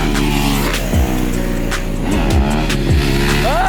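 A motocross bike revs hard and loud at a cross track, the engine note climbing and dropping in several sharp throttle blips over a constant roar, close by.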